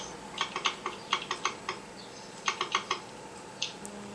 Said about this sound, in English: Oh, you're not typing, you're scrolling down.